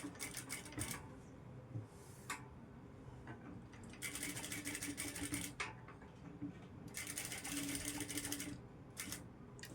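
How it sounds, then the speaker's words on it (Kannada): Sewing machine stitching a blouse sleeve along the canvas edge, running in several bursts of rapid mechanical stitching with short pauses between, close and steady. "ಕ್ಯಾನ್ವಾಸ್ ಪಕ್ಕದಲ್ಲೇ ಸ್ಟಿಚ್ ಮಾಡ್ಕೊಂಡು ಬರಬೇಕು"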